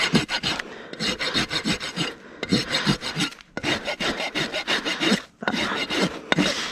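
A rasp files a horse's foundered hoof during trimming, making steady, close scraping strokes in a quick back-and-forth rhythm with a few short pauses.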